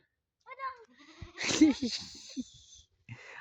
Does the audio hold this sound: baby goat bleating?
yes